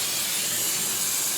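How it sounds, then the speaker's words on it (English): A short, continuous aerosol hiss as brake parts cleaner is sprayed onto the rear brake parts of a Chrysler Town & Country minivan, steady and close with no pauses or voices. "Take some brake parts cleaner and spray it down"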